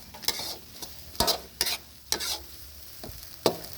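Mama suki noodles stir-fried with suki sauce and celery leaves in a pan, with repeated scraping spatula strokes over a steady close sizzle, no talking.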